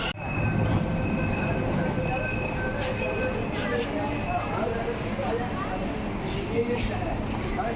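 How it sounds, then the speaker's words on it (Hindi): A Delhi metro train rumbles steadily into the station with a low, continuous rolling roar and faint high metallic squeal, while people chatter nearby throughout. "ये मेट्रो यानी कि लग गई है"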